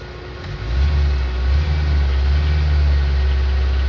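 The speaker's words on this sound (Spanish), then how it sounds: "Mira, acaban de encenderse los electros." A car's engine idles steadily and close, with a low rumble, as its electric radiator cooling fans switch on and add a broad whooshing hum.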